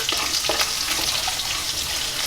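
Salt, turmeric and chili fry in a hot pan with a bright, constant sizzling hiss, close and fairly loud, with a few faint crackles early on.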